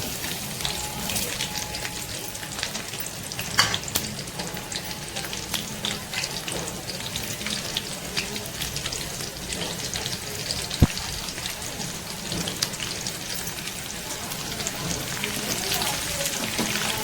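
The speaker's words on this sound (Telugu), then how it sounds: "ఇంకా మనం తాలింపు పెట్టుకుందాం" Garlic cloves with skin and dried red chillies fry in hot oil for a tempering, a steady close sizzle with scattered crackles and pops running continuously, with a voice in the background.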